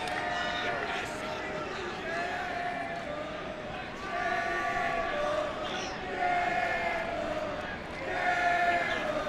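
A large crowd at a college national championship game, Salisbury fans roaring steadily with rising swells of cheering, while a commentator talks over the noise.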